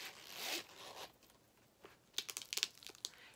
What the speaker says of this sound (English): the coolest thing about this is side B, the zipper